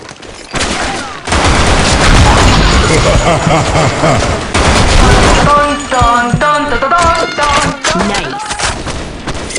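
Rapid bursts of weapon gunfire in the shooter game BlackShot, loud and dense with booming shots, followed by announcer voice lines and short musical game effects.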